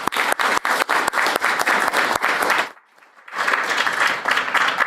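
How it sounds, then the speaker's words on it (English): A summit audience applauds its panelists with dense, steady clapping that breaks off abruptly for a moment of near silence, then resumes just as full, loud and close. "Can we get a round of applause for our panelists?"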